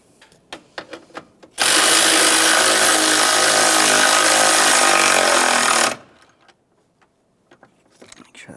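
A power tool tightens an 8mm mounting bolt on a 2015-2020 Ford F-150 windshield washer reservoir. It runs as one loud, steady whir for about four seconds, with light clicks and handling noises before and after.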